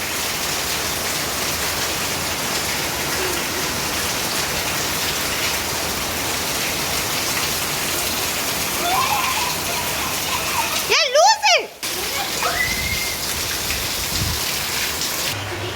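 Rain falling steadily outdoors, a continuous loud hiss of drops on surfaces lasting throughout with a brief interruption near the end.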